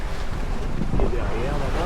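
A trimaran sails in a crosswind off the Brittany coast, with loud, close wind buffeting the microphone over rushing water and hull noise.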